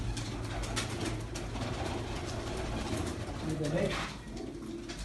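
Pigeon cooing from a sai pigeon at a loft, repeated soft throaty coos over steady low background rumble, with a voice briefly talking.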